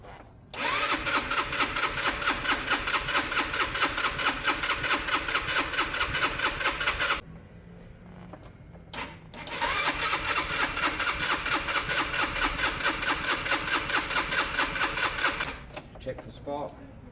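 A GY6 scooter's electric starter cranks in two long bursts, a fast, even whirring chug that runs for several seconds, stops, then starts again, loud and close, without the engine catching; a brief voice is heard during the gap.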